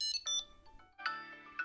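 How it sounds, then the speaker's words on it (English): A Tile Bluetooth tracker rings out in a repeated electronic melody of bright tonal chimes, fairly loud and close, in short bursts with brief pauses between them. "And on the Tile app, I can hit find on that. And that rings"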